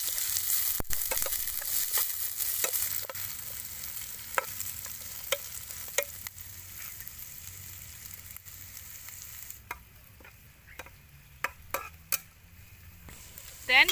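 Chili and turmeric paste stirred in a hot pan while cooking snails with lemongrass, producing a sizzle that fades through the clip, with scattered clinks and scrapes of a utensil against the pan that grow sharper near the end.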